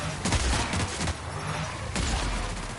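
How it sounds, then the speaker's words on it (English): A heavy machine gun fires in the video game The Outer Worlds, a dense, continuous roar of rapid shots with battle noise, loud and unbroken for a few seconds. "She is good with that heavy machine gun."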